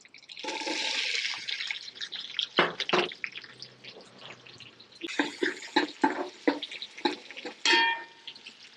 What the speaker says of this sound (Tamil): அந்த வெங்காயம் போடுறோம்.